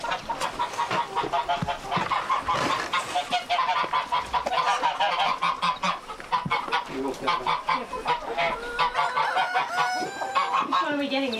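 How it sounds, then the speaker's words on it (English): Geese honk loudly and continuously in a farm pen, a dense overlapping chorus of harsh calls with some clucking fowl mixed in, close and busy throughout. "We're about to go in and just get a goose for Louisa's and Pete's wedding."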